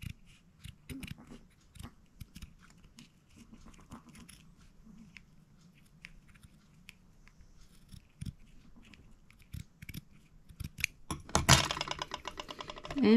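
Scissors snip through fabric while a fabric-covered explosion box is made, faint small cuts at first, then a louder burst of quick close snips near the end; no speech.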